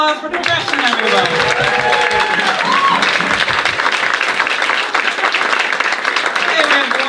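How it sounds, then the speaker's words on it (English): Comedy show audience breaks into loud, sustained applause and cheering, a dense wash of clapping filling the room from start to finish. "One more round of applause for depression, everybody."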